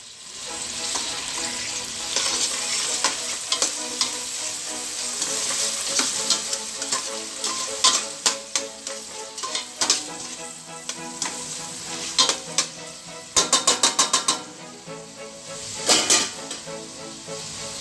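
Chopped tomatoes hitting a pan of onions gone translucent and pink for palak paneer, a steady bright sizzle broken by bursts of stirring and scraping clatter near the end, close and without speech.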